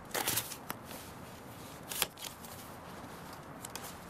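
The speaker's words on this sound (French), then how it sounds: "Tirez une carte et posez une question." A deck of cards shuffled close by, a quick riffling burst at the start and another a couple of seconds later, with faint softer card handling between, no talking.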